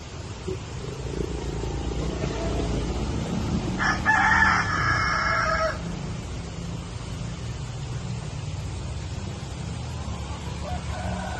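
A rooster crows once loudly, about two seconds long, from a chicken coop built above a freshwater fish pond, set against a steady outdoor background hum.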